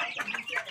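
Backyard chickens cluck in a brief, close burst of several quick, fairly soft calls.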